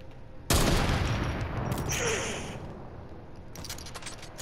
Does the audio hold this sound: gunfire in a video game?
yes